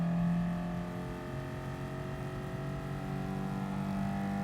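Car engine in the racing game Gran Turismo Sport, a thin buzzing drone that holds a fairly steady pitch with slight rises and dips, moderately loud and alone.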